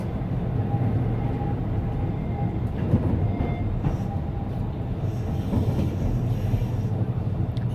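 A Keihan Keishin Line train rumbles steadily as it turns sharply and slows into Biwako-Hamaotsu station, with low rolling noise and occasional clicks and squeals from the wheels.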